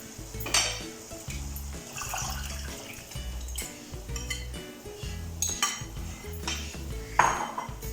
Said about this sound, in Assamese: এইখিনি ভালদৰে এনেকৈ লৰাব লাগিব